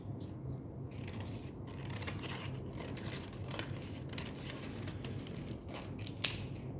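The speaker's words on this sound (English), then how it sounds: "you can cut around it, exactly around it, the extra parts" Scissors snip steadily around a paper circle for a hanging mobile, a close, soft run of cutting and rubbing with a sharper click near the end and no talking.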